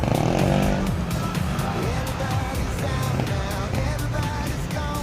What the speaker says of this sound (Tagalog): May motor, may motor. Sa likod mo, may motor.